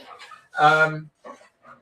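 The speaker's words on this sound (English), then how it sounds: "the dog is going crazy again with barking now for a change" A dog barks in one loud burst midway, with fainter yelps or voice-like sounds before and after in an indoor room.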